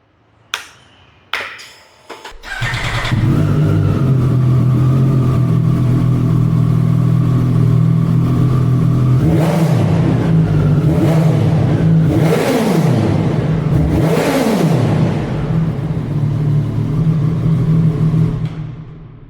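A Triumph Tiger 900 Rally Pro triple fitted with a G-Escape exhaust barks into life after a few short clicks, settles into a steady loud idle, then throws several sharp rising revs before dropping back and shutting off.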